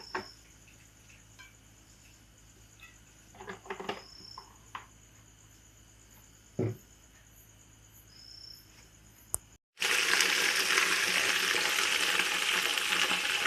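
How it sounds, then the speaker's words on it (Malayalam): Chicken pieces fry in butter in a pan: a quiet stretch with scattered clicks and taps, then a loud, steady sizzle bursts in and crackles for the final four seconds. "നമുക്കൊരു പാൻ വെച്ചതിനകത്തോട്ട് വെണ്ണ ഒഴിച്ച് അതൊന്ന് ഫ്രൈ ആക്കണം"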